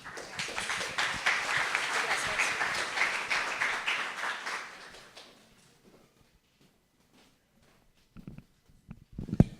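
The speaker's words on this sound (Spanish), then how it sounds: "La recibimos con un fuerte aplauso." Loud, dense applause welcomes a speaker at a university event on telework, sustaining for about five seconds before dying away to near silence, with a few faint knocks and shuffles near the end.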